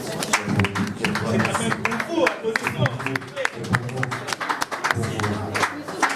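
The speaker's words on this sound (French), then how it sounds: "Est-ce qu'on peut applaudir pour la presse, s'il vous plaît?" An audience at a Kinshasa comedy film premiere claps steadily for the press, a dense, sustained patter of many hands under a speaker's amplified voice.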